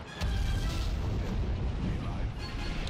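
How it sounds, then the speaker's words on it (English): An explosion roars in the Star Wars Empire at War Remake strategy game, one sustained heavy rumbling blast that fills the whole moment loudly with no pause. "That explosion sound effect sounds like it came from Code Geass when the nightmares in that anime would blow up"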